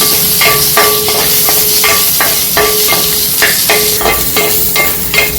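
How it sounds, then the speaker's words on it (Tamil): Drumstick pieces sautéing in sesame oil for a tamarind curry, a loud continuous sizzle punctuated by regular clacks of a spoon striking the pan as they are stirred. "முருங்கைக்காயை நம்ம நல்லெண்ணெயில் வதக்கிட்டு"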